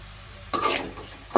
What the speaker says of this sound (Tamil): அதனாலே நல்லா வெங்காயத்தை வதக்கிக்கோங்க. மீடியம் ஃப்ளேமில் வச்சுக்கோங்க.